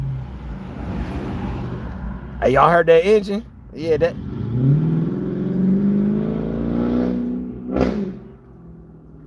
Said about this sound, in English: He was revving up going down the street